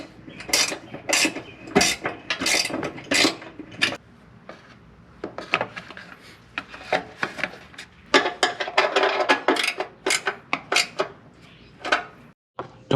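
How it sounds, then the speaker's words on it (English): Two 14mm wrenches work the bolts of an offroad skid plate on the passenger side of a vehicle. They make a run of sharp metallic clicks and clanks in irregular bursts, close by, with brief pauses between turns. "Get two 14mm wrenches and start cranking at it."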